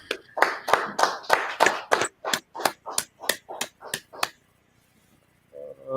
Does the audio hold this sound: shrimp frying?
no